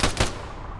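Two quick, loud gunshots ring out in a video game, close together, followed by a fading echo tail.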